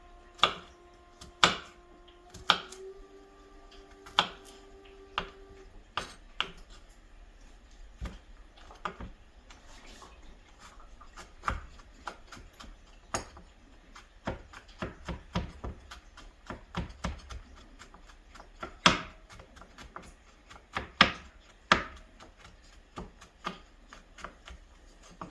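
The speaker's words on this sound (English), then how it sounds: "And then slice it up as small as you can." Garlic cloves minced with a knife on a cutting board for garlic bread: a long run of sharp, irregular chopping taps, some close and loud, others lighter, with a faint tone early on.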